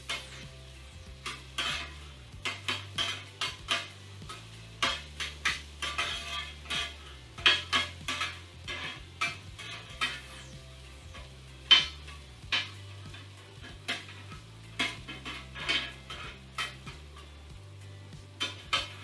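Seasoned Impossible plant-based meat tossed and stirred in a pan for a Philly cheesesteak, with repeated scraping and clinks of utensil on pan over a low sizzle, close and fairly quiet.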